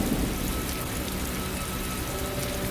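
Steady rain falls as a dense, even hiss of drops, continuous and moderately loud throughout, with no voices.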